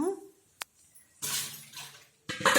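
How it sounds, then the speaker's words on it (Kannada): Water squeezed from soaked tomatoes drains off into a vessel in short splashing bursts, close and fairly loud, separated by brief quiet gaps. "ಅದಕ್ಕೆ ಈ ನೀರನ್ನು ತೆಗೆದುಚೆಲ್ಬಿಡಿ"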